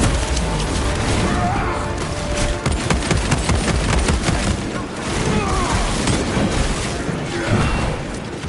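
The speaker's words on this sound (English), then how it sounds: "Using crack grenade." Crack grenade detonation in Warhammer 40k Space Marine 2 amid a chaotic battle: loud crashing blasts mixed with rapid gunfire and debris, dense and continuous throughout without a clear pause.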